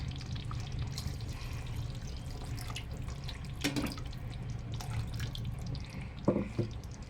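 Masala rinse water, used to wash out the grinder, is poured into a pot of chicken sambar in a home kitchen, giving a steady, soft running and splashing pour with a few faint drips, alone and fairly quiet.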